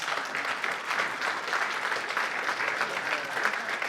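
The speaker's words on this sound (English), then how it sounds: "Let's give them all a round of applause." A debate audience breaks into a steady, dense round of applause, many hands clapping together at an even level throughout, fairly close and without any talking over it.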